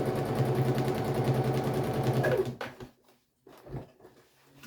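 A sewing machine running a stay stitch along a skirt: steady fast whirring hum for a couple of seconds, then it stops, followed by a few quiet clicks and handling knocks.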